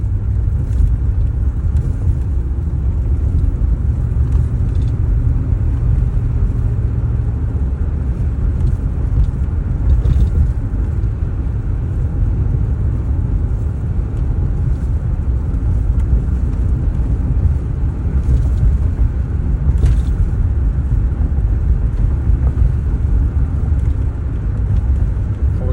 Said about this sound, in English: And all I'm doing is just setting my foot on the gas.